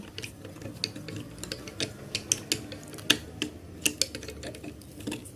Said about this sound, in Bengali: তো আমি স্ক্রিন টাইট করতেছি